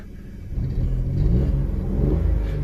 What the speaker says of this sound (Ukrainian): от я зараз погазую вам